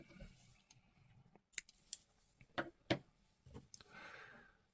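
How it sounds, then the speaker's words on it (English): Scissors snipping yarn at the end of a crocheted granny square round, a few sharp close clicks, quiet, with faint handling rustle around them. "now we cut the yarn"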